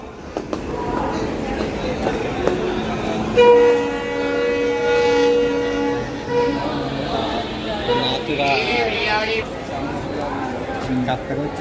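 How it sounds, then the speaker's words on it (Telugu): A train rumbles in with a long sustained horn blast, rolling clatter continuing as it pulls alongside, with people talking nearby. "ఇదిగో ట్రైన్ వచ్చింది"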